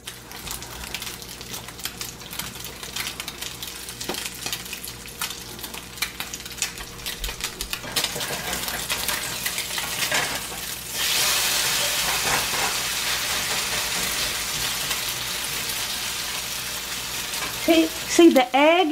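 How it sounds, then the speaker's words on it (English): Potatoes, sausage, bacon and eggs frying together in a pan: a continuous crackling sizzle with dense spattering pops that swells into a louder, hissier steam near the middle, with occasional utensil scrapes at the end. "because the potatoes are grilling and frying, that sausage, that bacon, your eggs, everything is just cooking"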